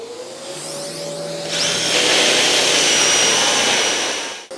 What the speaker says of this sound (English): So I've got to drill out the rows now